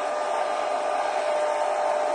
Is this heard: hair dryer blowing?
yes